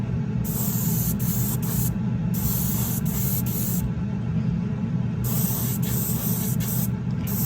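Spray gun laying primer onto a truck bed, a steady loud hiss that runs unbroken, with brief pauses in its bright upper edge as the trigger eases.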